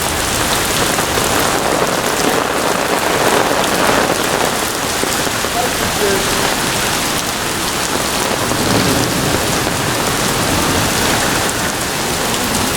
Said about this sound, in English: Well, this rain is coming down.